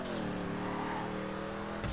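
A custom crew car in a video game revs its engine steadily and loudly up close for about two seconds, ending with a short sharp burst.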